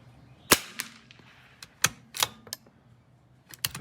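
Sharp, loud .22 LR rifle shots fired with Eley Practice 100 ammunition: several crisp cracks spaced irregularly, each dying quickly, with no talking.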